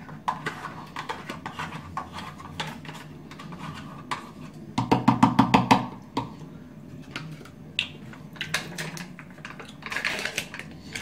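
A spoon mixes fromage blanc into a fruit, nut and peanut gainer, giving irregular scraping clinks against the bowl with a denser rapid stretch in the middle and quieter scattered knocks after.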